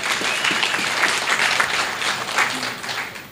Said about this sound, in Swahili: Naomba tuipigie makofi Pi Network